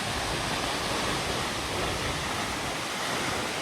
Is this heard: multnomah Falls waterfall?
yes